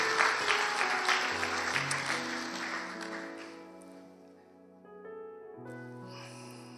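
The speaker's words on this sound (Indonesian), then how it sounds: "Sorak-sorak untuk Tuhan Yesus." A church congregation at a Sunday service claps and cheers for Jesus, a dense burst of applause that fades over a few seconds as sustained music notes carry on underneath.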